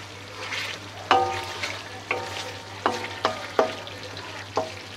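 Tomato masala for chicken karahi frying slowly on low heat, a constant sizzle with a low hum beneath and a series of distinct spatula scrapes and taps on the pan, no voices.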